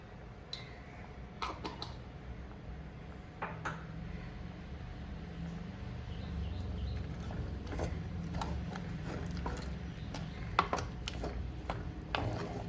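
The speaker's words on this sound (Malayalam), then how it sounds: "നമ്മളിങ്ങനെ അഞ്ചാറ് വട്ടം ഇളക്കുമ്പോൾ തന്നെ ആ നന്നായിട്ട് വെന്ത് കിടക്കുന്ന പരിപ്പിലേക്ക് യോജിക്കും നമ്മുടെ ഏത്തക്ക കഷ്ണം" A spoon stirs cooked dal mixed with raw plantain pieces in a pot, giving scattered sharp clicks and taps over a soft, steady background.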